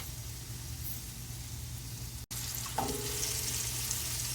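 Stuffed okra (bharva bhindi) fries uncovered in a pan with a steady, close sizzle and crackle. There is a brief drop in the middle, followed by a bump and a light stir, and no talking.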